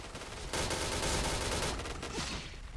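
Dense gunfire rattles in the shooter game Point Blank during a chaos mode match, a loud continuous burst of rapid shots that fills nearly the whole stretch and then thins out near the end.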